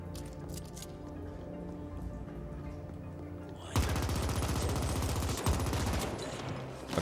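Gunfire in the sci-fi shooter game The Ascent, first a quieter patter of shots and then a dense, loud burst of rapid automatic fire sustained for several seconds.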